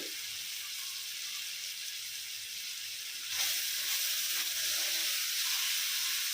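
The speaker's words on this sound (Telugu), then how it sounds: "ఇది బాగా పచ్చివాసన పోయే వరకు వేయించుకుందాం వేగుతుంది కదా" Ginger garlic paste frying in a pan for mushroom biryani, a constant loud sizzling hiss that swells a little halfway through, with no talking.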